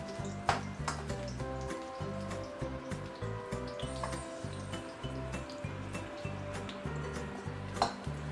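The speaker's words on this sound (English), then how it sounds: "so I'm going to stir fry right now." Prawns and garlic being stir fried in a pan give a steady sizzle with repeated scraping and clinking of a utensil against the metal, close and moderately quiet, with no talking.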